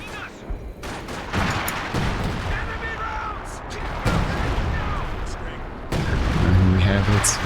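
Artillery barrage in a real-time strategy game match, a dense rumble of repeated distant shots and booms rolling on under a commentator's voice, growing heavier toward the end.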